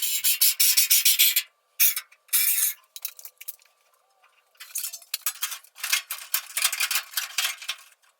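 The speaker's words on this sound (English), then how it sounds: "I just want to clean off the mating surfaces between the two panels" Hand abrading of steel panel mating surfaces ahead of spot welding on a Mk2 Escort rally car, quick rough scraping strokes in bursts with short pauses, close and fairly faint.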